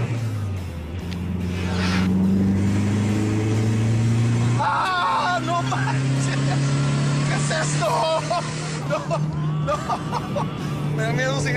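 A car pulls away slowly, its engine note rising gently and holding steady and close, while people talk and chatter over it.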